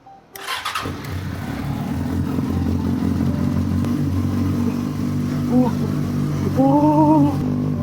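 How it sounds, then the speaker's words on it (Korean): A Yamaha FZ6S Fazer motorcycle with a tuned aftermarket muffler starts up and settles into a steady, loud, close idle with a deep rumble, with brief higher tones near the end. "시동을 한번 걸어보도록 하겠습니다"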